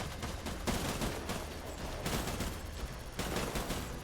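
Dense, continuous video game gunfire, a sustained rattling barrage of rapid shots in bursts with brief dips, loud and unbroken for the whole stretch, no voices.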